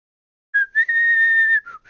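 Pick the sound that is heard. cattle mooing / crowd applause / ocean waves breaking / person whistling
person whistling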